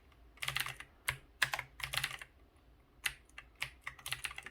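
Keys clatter on an NKEY R3 RGB backlit mechanical gaming keyboard in uneven bursts of sharp, close clicks, with short pauses between groups of presses.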